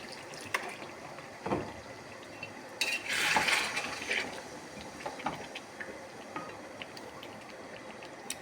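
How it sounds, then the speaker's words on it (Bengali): A little water poured into a pot of braised meat that has begun releasing its oil, with a brief splash and sizzle rising among scattered clinks of a utensil against the pot, all fairly soft and close. "মাংস কষাটা হয়ে গেছে, তেল ছেড়ে দিয়েছে। এবার আমি অল্প জল দেবো।"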